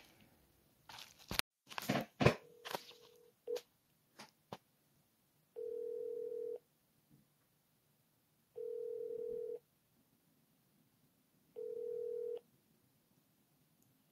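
Phone call placed from a handset: a few quick crunchy key taps, then three evenly spaced ringback tones about three seconds apart, clear against a quiet background.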